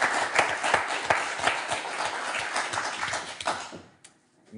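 A television game-show studio audience applauds two number-round contestants with dense, sustained clapping that holds steady, then thins and fades out near the end.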